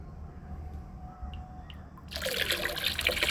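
Super Sonata liquid NPK fertilizer being mixed into water in a mug, heard as a soft, close splashing and trickling of poured liquid that swells suddenly partway through and keeps running steadily.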